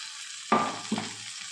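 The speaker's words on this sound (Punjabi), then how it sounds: "ਇੱਕ ਪਾ ਦਾਂਗੇ ਟਮਾਟਰ ਬਰੀਕ ਕੱਟਿਆ ਹੋਇਆ" Finely chopped tomato and green chillies hit a hot pan for aloo palak sabzi: two quick soft thuds, each followed by a short burst of sizzling that fades within a second, no talking.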